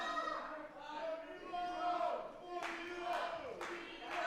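A wrestling crowd at a live independent show roars and chants steadily in the background, rising in swells, while a commentator talks over the noise.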